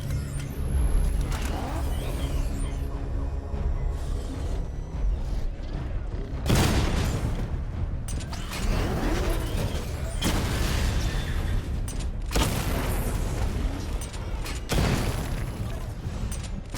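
Missile barrage explosions and mechanical weapon noise in Batman: Arkham Knight, loud rolling booms and blasts in repeated waves over a constant rumbling drone, with faint voices.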